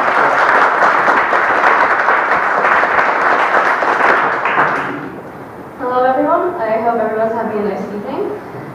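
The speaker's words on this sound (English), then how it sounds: "So let's give them a round of applause." Sustained, fairly loud applause fills a school board meeting in Latrobe, Pennsylvania, for about five seconds. It then fades out and a single speaker begins talking.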